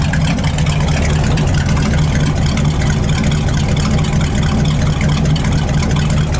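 A 1978 Ford F-700 truck engine idles running rich, a loud continuous low rumbling drone with a steady throbbing beat, heard up close with no talking.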